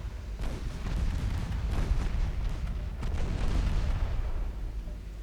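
Heavy naval gunfire in the video game Ultimate Admiral Dreadnoughts, NAR Mod: a dense, continuous rumble of booming shell fire and explosions, loud throughout with repeated sharp blasts, no voices.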